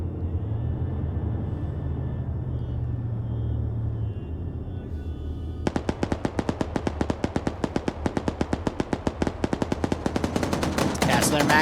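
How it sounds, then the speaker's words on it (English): Rapid bursts of automatic gunfire pour into buildings in a large PvP shooter match, loud sharp repeated shots following a low rumbling lull, with faint talk beneath. "They're mag dumping these buildings because they know the HVT can be garrisoned in any one of them"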